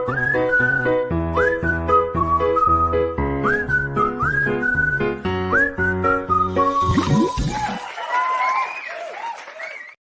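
A melodic whistled tune, loud and close, runs in short phrases, then gives way to a burst of applause and cheering from a crowd near the end.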